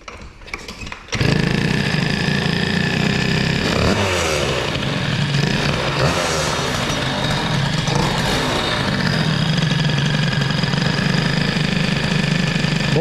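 Two-stroke engine of a Peugeot 103 moped, a hybrid air-cooled Stage6 MK2 setup with an MVT DD CDI, idling steadily and loudly up close with slight unevenness in its rhythm, after a brief quiet start.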